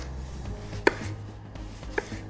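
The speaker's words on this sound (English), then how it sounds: "my favorite way to cut them is to just take out the stem end and cut them in wedges like this" Two sharp knife chops on a cutting board as a seasonal vegetable is cut into wedges after its stem end is removed, close and distinct with a pause between them.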